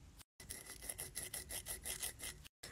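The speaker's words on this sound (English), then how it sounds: "So we're going to use this adorable nail file." A nail file scraped back and forth across a clay bead surface, about a dozen quick rasping strokes in a steady rhythm, close and fairly quiet, with no talking.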